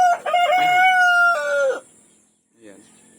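Rhode Island Red hens and a rooster at their nesting area: a loud, close crow with clucking mixed in, followed by a brief pause and one softer cluck.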